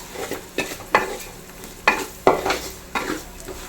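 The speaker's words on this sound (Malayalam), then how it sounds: "മൂന്ന് സ്പൂൺ മല്ലിപ്പൊടി നല്ലപോലെ ഒന്ന് മിക്സ് ചെയ്ത് കൊടുക്കാം ഈ എണ്ണ കിടന്ന് പൊടിയൊക്കെ നല്ലപോലെ ഒന്ന് മൂത്ത് വരണം" Coriander powder being stirred and fried in oil in an aluminium pan for a Kerala-style fish head curry, sharp rhythmic scraping strokes of a spoon over a low sizzle, close and fairly loud, with no voices.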